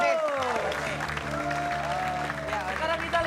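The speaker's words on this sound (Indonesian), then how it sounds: "tepuk tangan dulu" Studio audience clapping on an Indonesian TV comedy show, applause under a tonal musical sting and overlapping chatter.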